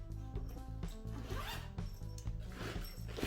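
Zipper on a DeWALT tool bag being pulled open in several quick rasping strokes, close and fairly loud with no talking.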